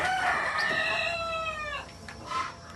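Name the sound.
native country chickens, rooster crowing on a farm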